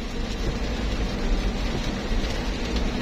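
Steady rain falls outdoors, a constant, fairly loud broadband hiss with no breaks and no voices.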